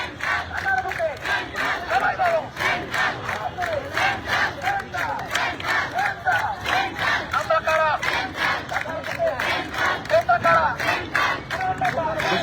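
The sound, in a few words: students chanting slogans at a protest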